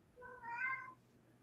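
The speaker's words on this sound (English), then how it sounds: "Who's meowing?" A cat meows once, a clear drawn-out call rising and falling over about a second, fairly close in an otherwise quiet room.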